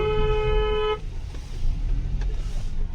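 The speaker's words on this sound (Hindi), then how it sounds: "गाड़ी आई ना एक और।" A car near the Orchha fort sounds a short steady horn blast, then its engine rumbles past close by, with road noise continuing after the honk and no talk.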